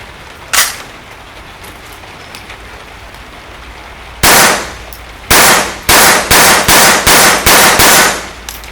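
A GSG-5 .22 LR rifle firing outdoors, heard as a single early crack, then a pause, then a run of loud, closely spaced shots in a quick, slightly uneven rhythm, each with a short decaying tail.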